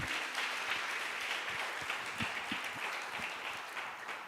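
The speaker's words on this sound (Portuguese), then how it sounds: "Pode aplaudir." Steady applause from a church congregation, a dense wash of clapping that holds evenly for several seconds without voices.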